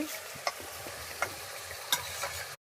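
Masala spice paste frying in a pan, a steady soft sizzle with a few sharp spoon scrapes and clinks against the metal, close and moderately quiet, no voices.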